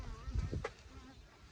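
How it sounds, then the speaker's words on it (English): Honey bees from a backyard hive buzz close by, a soft insect drone with a few brief louder passes and low handling thumps, faint overall. "So all the warrior bees were coming to the front"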